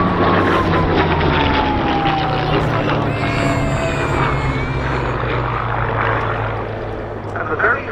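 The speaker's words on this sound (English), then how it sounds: "the very Hurricane we see here, which is a Mark 1 with serial P3717" A Hawker Hurricane Mark 1 fighter flies over an airshow crowd at RAF Cosford, its propeller engine a loud, steady droning roar that swells gently as it passes, while a commentator talks over the public address.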